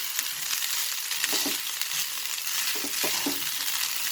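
Chicken fried rice stir-fries over a high flame, a dense sizzling hiss broken by a few quick scraping stirs of the spatula, close and fairly loud with no talking.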